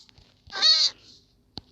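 A single short meow from a wild cat, an ocelot, in Minecraft, a bright tonal cry lasting under half a second, followed by a brief click, alone against near silence.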